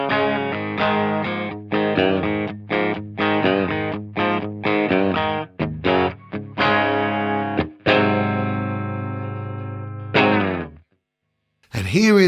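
An electric guitar runs straight through a tuner into a Strymon Iridium amp modeler, playing a rhythmic sequence of chords and single notes, loud and close, with short choppy stabs, several let-ring chords and a brief silence near the end.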